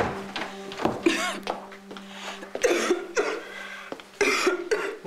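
A woman's nasty coughing fit in the morning, several harsh, close coughs in bursts with short gasps between, over a steady low hum.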